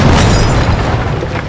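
An explosion in the video game Jagged Alliance 3 sounds as a loud, close boom with a rumbling tail that slowly fades over about a second and a half, with no speech.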